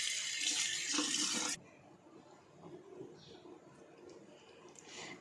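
Tap water runs into a sink while anchovy fish are rinsed, a loud steady splash for the first second and a half before stopping, followed by faint wet handling sounds.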